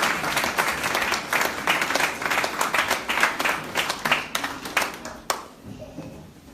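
Church congregation applauding during a French-language worship service, dense steady clapping from many hands throughout, close and full, tapering off sharply near the end.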